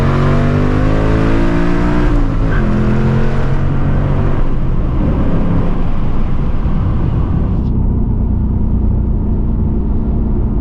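A 2024 Ford Mustang GT with an H-pipe exhaust accelerating hard in second gear: loud, close V8 roar climbing through the revs, then a shift and continued deep rumble from inside the car.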